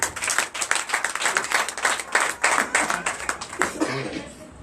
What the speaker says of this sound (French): Donne l'acclamation à Jésus